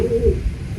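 A young racing pigeon cooing close by, a short low throaty coo lasting under a second, with no voices.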